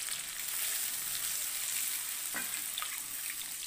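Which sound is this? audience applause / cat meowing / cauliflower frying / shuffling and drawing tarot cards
cauliflower frying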